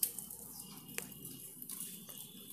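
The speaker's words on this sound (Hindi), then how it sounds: "इसमें हम पानी डालेंगे और एक इसका भी एक बैटर बनाना है" Water is poured into a bowl of half a cup of maida (refined flour) to mix a thin batter; a soft, continuous trickle and splash sounds close by, with a few sharper drips and taps, and no talking.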